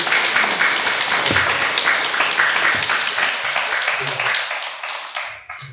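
An audience bursts into sustained applause at the close of a Korean lecture on meditation, dense, steady clapping that fades out near the end.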